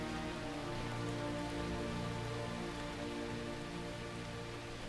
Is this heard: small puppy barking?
no